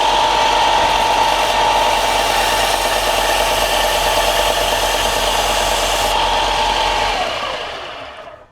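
A running sanding belt being cleaned with a Klingspor abrasive cleaning stick gives a loud, steady grinding roar with a motor hum underneath, then winds down and fades near the end. No speech.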